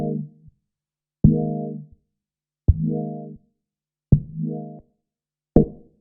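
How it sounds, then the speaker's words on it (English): A very basic dub chord played dry with no tape echo: four short stabbed chords spaced about 1.5 seconds apart, each cutting off cleanly with no repeats, then a final brief hit. "I have set up a very basic dub chord, just playing it, and it sounds like this, dry."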